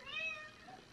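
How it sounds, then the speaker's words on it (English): A house cat gives a single drawn-out meow at feeding time, close and fairly soft, with no talk over it. "Okay, let's feed the cats."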